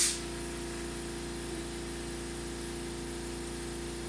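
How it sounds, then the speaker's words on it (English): A continuous mechanical hum and hiss from an air compressor in an injection molding lab drones steadily at low volume, with no voices. "So the noise you are hearing right now is from the air compressor."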